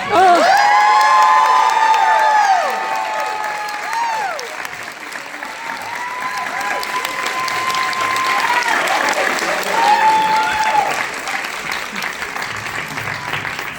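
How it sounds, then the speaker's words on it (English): An audience applauds and cheers loudly, with whoops and high shouts over steady clapping that stays strong for most of the stretch, swelling again near the end. "Please, let's keep the cheer going."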